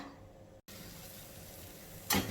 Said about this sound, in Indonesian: Aku mau ngelanjutin goreng terong dulu